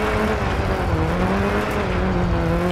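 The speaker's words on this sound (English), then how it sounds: "Engine is sounding a bit rough" A 2001 Subaru Impreza rally car in the racing game Dirt 4 drones along at steady revs, its engine running rough and down on power, loud and continuous with no voice over it.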